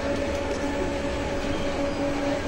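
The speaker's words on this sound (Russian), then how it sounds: "Очень комфортный трамвай." A comfortable modern tram in Krasnodar rolls along with a steady rumbling ride noise and a faint tonal hum, heard from inside the car, continuous and even throughout.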